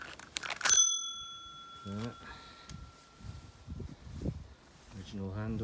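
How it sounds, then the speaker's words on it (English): An original-style bell on a classic vintage bicycle rings once with a bright, sustained metallic ding that fades slowly, followed by someone talking nearby. "even original style bell."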